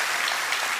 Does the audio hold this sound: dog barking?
no